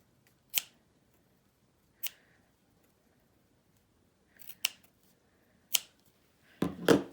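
Fabric scissors snip away bulk from a shirt seam allowance in five sharp, close, isolated cuts spaced irregularly over quiet, the last one followed by a brief rustle of cloth.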